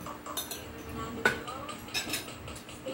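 Cutlery clinks and scrapes against a dish while food is being mixed at a birthday celebration, with one sharper clink standing out amid low background room noise and faint voices.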